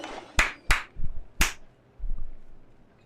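Three sharp hand claps ring out close and clear, evenly spaced, then a few softer low thumps follow, with no talking around them.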